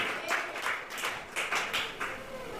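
A church congregation in Sri Lanka claps hands in a steady rhythm, sharp rounds of claps repeating about every quarter second, fairly close and loud with no voices over them.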